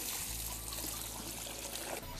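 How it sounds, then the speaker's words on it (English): Elephant dung washed by hand in a bucket of water makes a steady trickling and dribbling sound, close and quiet, over a constant hiss. "we are going to start washing the dung."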